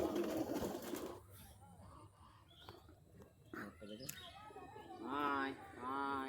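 Pigeons coo in a pigeon house beside the Kopotakkho river, low throaty calls rising near the end, while a person speaks softly nearby over the birds.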